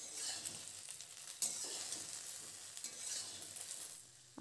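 Jujube pickle stirred in a pan with a soft, continuous sizzle and scraping, steady and close, with a brief louder clatter partway through and no voices.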